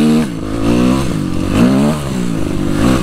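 Suzuki RMZ 250 four-stroke motocross bike ridden in second gear, its loud, close engine note rising and falling with throttle and a rough, buzzy exhaust.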